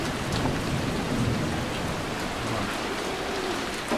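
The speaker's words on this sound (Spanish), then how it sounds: "Vale, es de noche y encima está cayendo una tormenta." Night thunderstorm in the video game Dying Light: steady, dense rain hiss with low rumbling thunder underneath, continuous and enveloping, with no talking.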